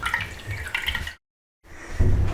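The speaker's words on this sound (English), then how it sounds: "It's just water in the pipes coming down the wall or wherever they happen to be" After a toilet cistern with a SIAMP-type filling valve refills, water runs and trickles through pipes inside a wall, a close, hissing flow that cuts out briefly and then returns more strongly.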